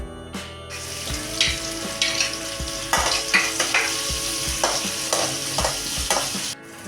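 Sliced onion sautéing in hot oil with popped mustard seeds and curry leaves, a close, steady sizzle broken by repeated scraping strokes of a spoon stirring the pan, with no voices.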